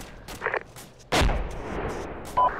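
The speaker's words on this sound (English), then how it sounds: "AK fire uh, west southwest." AK rifle fire in the Arma 2 video game, a few sharp distant single gunshots with echoing tails, the loudest one in the middle, over quiet background.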